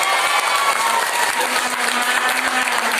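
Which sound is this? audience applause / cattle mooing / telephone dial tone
audience applause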